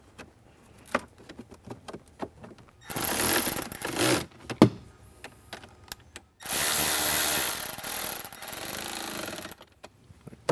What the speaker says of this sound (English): Now we'll just set that in and screw it into place.